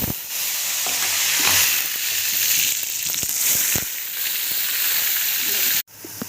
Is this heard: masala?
yes